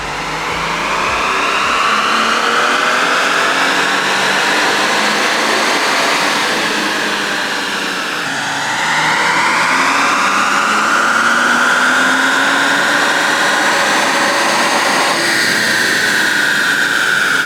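A turbocharged Nissan VR30 engine in a 2018 Infiniti Q60 runs under load on a dyno and makes a loud, sustained roar that climbs steadily in pitch, eases briefly, then pulls hard again through a second long rising run.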